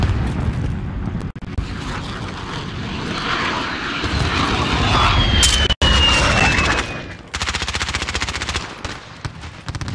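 Enemy VTOL aircraft in a military shooter video game, a loud engine roar that swells and passes close by amid bursts of gunfire, with sharp cracks and a sudden cut near the middle.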